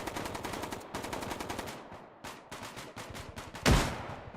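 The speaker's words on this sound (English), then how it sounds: "Shooting back here." Rapid automatic gunfire from a video game comes in several sustained bursts with short gaps between them, and a louder blast or explosion lands near the end.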